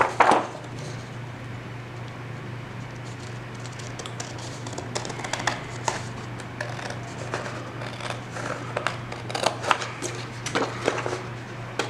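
A hand-drawn paper grid being cut out, probably with scissors: a steady run of light snips and paper crackles close up, continuing over faint background hum with no talking.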